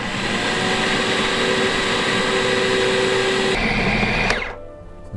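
Loud, steady whir of a blender grinding a no-bake cheesecake mixture, running close and even for about four seconds before spinning down abruptly.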